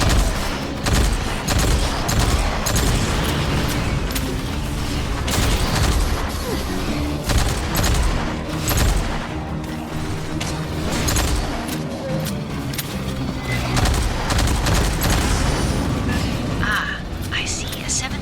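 Sustained bursts of gunfire and booming blasts in the video game Aliens Fireteam Elite as capacitors are shot out, loud and continuous, with voices over the action.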